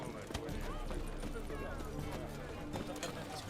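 Horse hooves in the fantasy game The Witcher 3, a fast, muffled drumming of strikes partly masked by spoken voices and background noise.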